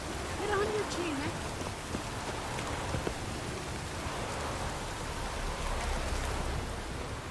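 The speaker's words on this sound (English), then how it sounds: "It's raining." Steady rainfall in The Witcher 3 video game, a constant hiss of drops on surfaces throughout, with a brief voice line near the start and a faint low rumble underneath.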